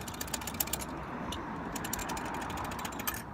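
A ratchet clicks rapidly while snugging a spark plug down in a 2012 Honda CR-V engine, a close, crisp run of metallic pawl ticks with uneven rhythm.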